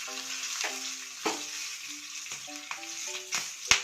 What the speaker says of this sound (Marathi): आणि इथे एक लाल मिरची घेतलेली आहे मी, ते टाकते आणि थोडीशी हळद.